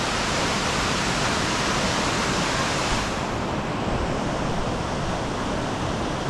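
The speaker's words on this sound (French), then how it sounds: "deux cascades pour le prix d'une." Two waterfalls in a lush Dominica rainforest pour in a steady, dense roar of falling water, broadband and constant, heard close and loud with no voices over it.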